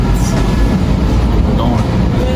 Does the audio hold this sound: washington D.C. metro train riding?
yes